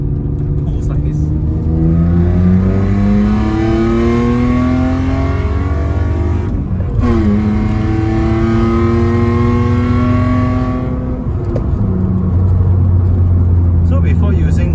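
A car engine revs in repeated short pulls, each rising in pitch then dropping, loud and close from inside the vehicle with a brief break between pulls; a voice speaks over the engine.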